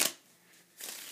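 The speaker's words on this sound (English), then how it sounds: "I'm just gonna give the cards some cuts, some swivels, and some more shuffles" A deck of playing cards being shuffled and cut: a quick riffle burst at the start, a quiet pause, then a second, longer stretch of soft papery riffling, close and faint, with no talking.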